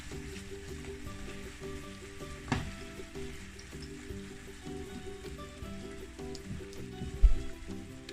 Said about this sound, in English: you want to fry it up a little bit or let it brown up somewhat